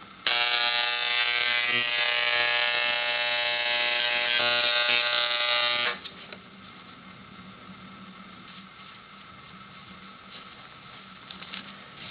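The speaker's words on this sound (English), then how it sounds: "This is going to make a loud noise, but it's an engraving tool, and I'll turn it on" A loud, steady electric buzz from a small drypoint engraving tool runs for several seconds, then cuts off, leaving faint background hiss and a few small clicks.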